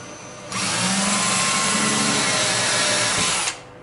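A power drill runs steadily for about three seconds, boring a pilot hole for a screw on a new door hinge, loud and close with a sharp start and stop and no voices.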